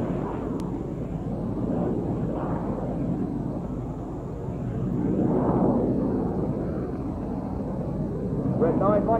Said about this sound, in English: the lone jet is Red 9, who's now going to fly the Goose